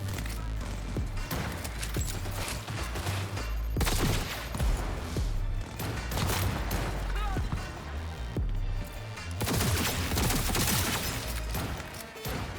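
Bursts of gunfire in the Cyberpunk 2077 Phantom Liberty expansion, a few loud shots in quick clusters amid clattering game action and background music.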